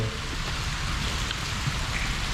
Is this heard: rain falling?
yes